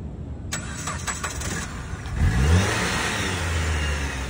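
A car at a police vehicle auction cranks and fires up after a jump start, then revs up and settles into a rough, fairly loud idle close by.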